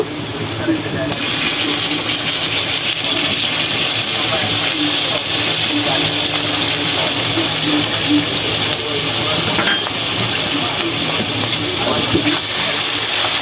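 Goat liver hits hot oil with browned fried onions, a loud broadband sizzle that jumps up sharply at the start and then keeps hissing steadily close by, with faint talk beneath.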